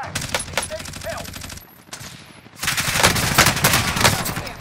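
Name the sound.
gunfire in the video game Call of Duty: Warzone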